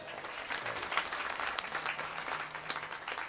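A crowd at a devotional kirtan gathering applauds, a steady dense patter of many hands clapping at moderate volume and some distance that holds throughout, with no talk.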